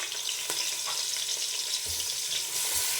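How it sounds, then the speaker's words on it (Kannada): Green chillies and onions fry in a pan with a steady, close sizzle and crackle that continues throughout, broken by a few soft stirring knocks and scrapes. "ಹಸಿಮೆಣ್ಸಿನ್ಕಾಯಿ ಸ್ವಲ್ಪ ಫ್ರೈ ಆದಮೇಲೆ ಈರುಳ್ಳಿನ ಹಾಕ್ತಾಯಿದ್ದೀನಿ"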